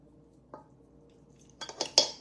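A utensil stirring pink salt into a bowl of tuna cocktail, a faint tap followed by a few clinking scrapes growing louder at the end, close up with no voices.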